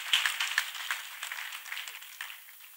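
A small audience claps briefly and fairly faintly in a room, a scattered burst of hands that fades away over a few seconds.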